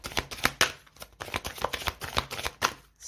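Tarot cards shuffled and drawn by hand, a run of crisp riffling flicks and soft slaps in uneven bursts, close and fairly quiet with no talking.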